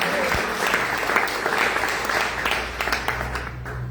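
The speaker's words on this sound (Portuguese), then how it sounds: "O aplauso certamente é do Senhor" A congregation applauds at a church celebration of a pastor's sixtieth birthday, with sustained, even clapping from a large group and some crowd murmur mixed in.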